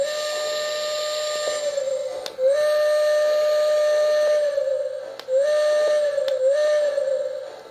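A model train's steam-style whistle blows three long sustained blasts, each with a dipping start, loud and close with a hissy edge and no talk.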